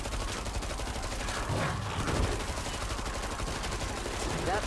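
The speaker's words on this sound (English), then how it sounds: "Love the ammo capacity of the Tommy guns." Tommy gun fire in the video game Killing Floor 2 on the Santa's Workshop map: steady rapid automatic bursts rattle on continuously over busy game noise, fairly loud throughout.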